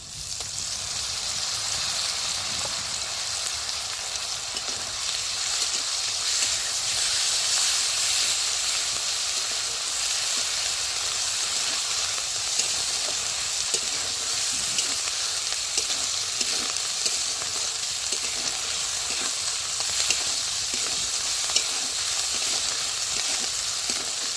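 Fried onion sizzling hard in hot oil as chili powder and ginger paste go in, a dense continuous hiss with faint stirring ticks throughout, close and steady with no talking.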